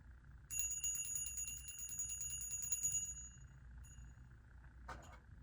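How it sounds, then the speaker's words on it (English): A hand bell is rung indoors during a quiet spiritual session, giving a bright ringing tone with shimmering overtones that sustains for a few seconds and fades, followed by a softer second strike. "I'm going to ring this bell."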